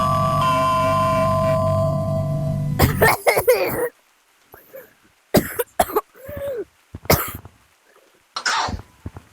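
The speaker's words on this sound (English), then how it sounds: "It's a medicine that makes you cough." A player in the Gorilla Tag VR game coughs after taking cough medicine. Game music plays first, then a string of short, close, harsh coughs comes in uneven bursts with quiet gaps between them.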